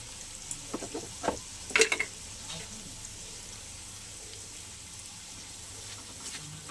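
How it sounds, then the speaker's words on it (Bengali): Filling for shrimp pakora fries in oil, a soft sizzle with a few louder spatters and clinks of stirring early on, then a faint, steady hiss. "বেশ একটু লাল লাল করে ভেজে নেব।"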